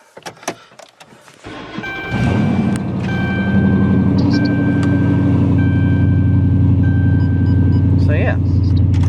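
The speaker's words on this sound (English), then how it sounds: "But now I need to back my car out of the garage with no steering wheel." A 2014 Dodge Charger idles and rumbles steadily while backing out of a garage, a loud low engine drone starting after a couple of seconds with a faint whirring whine above it and some handling noises at the start.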